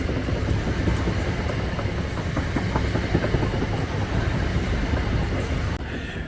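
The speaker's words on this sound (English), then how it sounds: "we've got another train coming just as we're speaking" A train rumbles past close by on the line beside the Worcester and Birmingham Canal between Selly Oak and Kings Norton, wheels clattering rhythmically over the rails in a continuous loud roll that fades slightly at the end.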